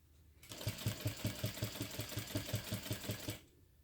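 Sewing machine stitching around the corners of a crossbody bag, a steady close run of rapid even needle strokes lasting about three seconds, then stopping.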